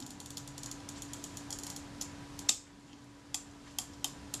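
The shutter release on a Kodak Retina IIa camera fires with a sharp mechanical click, surrounded by a quiet run of faint ticking clicks from the mechanism.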